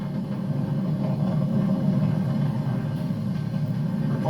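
SpaceX Falcon 9 rocket engines during launch ascent, heard as a distant, steady low rumble with a continuous broadband roar throughout and no distinct peaks.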